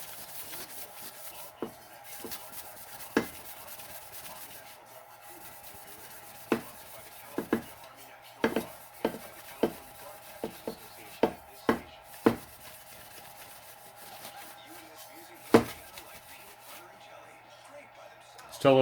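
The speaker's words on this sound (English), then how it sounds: "Gotta re-wet it. Wipe the platter some more." A cloth damp with acetone wipes the platter of a Pioneer PL-115D turntable, giving quiet, faint rubbing broken by scattered small clicks and taps.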